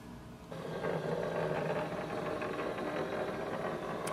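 An HP DeskJet 2755e printer starts scanning a page, a steady low mechanical hum and drone of the scan carriage that begins abruptly after a moment of quiet and carries on evenly at moderate level, with no one talking.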